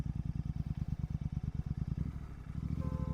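A Royal Enfield 650 motorcycle engine chugs with a fast, even thumping beat while riding a hilly road, loud and close throughout with no voices.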